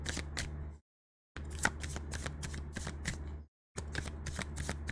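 Tarot cards shuffled during a dark karmic reading, a close papery riffle of quick ruffling bursts broken by two short silences, with no talking.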